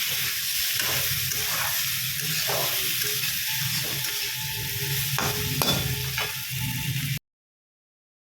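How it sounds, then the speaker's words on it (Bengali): Pumpkin and onion frying in a wok, a steady loud sizzle with stirring scrapes throughout, cutting off abruptly near the end. "এখানে দেখো কুমড়ো পেঁয়াজ ভাজছি"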